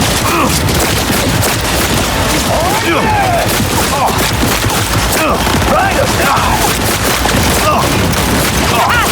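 Grenade blasts and gunfire in Cyberpunk 2077, a continuous loud barrage of booms and shots filling the whole stretch, with voices shouting over the chaos.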